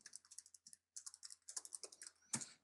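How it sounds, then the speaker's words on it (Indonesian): Quick, irregular keystrokes on a computer keyboard while keylogger software records them. The clicks come close and fairly soft in short bursts, with a brief pause, and end in one sharper, louder keypress. "Jadi ketika saya mengetik sesuatu"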